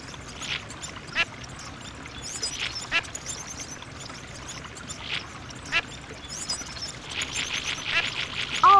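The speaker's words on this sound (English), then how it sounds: "Can you hear the ducks?" Ducks quacking in the Barbie Race & Ride video game, several short calls scattered across the scene with a faster run of quacks near the end, moderately loud over soft game ambience.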